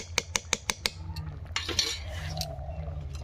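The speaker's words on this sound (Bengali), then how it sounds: "এইভাবে আমি আর একটু ডাবু দিয়ে নাড়িয়ে নেব" Mung dal cooked with a katla fish head stirred in a pot with a ladle, a quick run of five sharp metallic taps on the rim, then softer scraping and clinks, close and alone.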